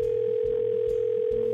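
A phone line tone plays after 911 is dialed, holding steady and unbroken through the whole stretch, with soft low thumps underneath.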